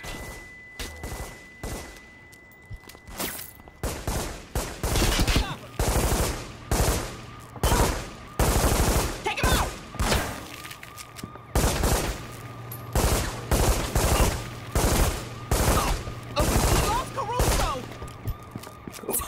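Bursts of rapid gunfire and single shots crack close and loud through a shootout in the Reservoir Dogs video game, with a low engine-like hum underneath and occasional shouted voices.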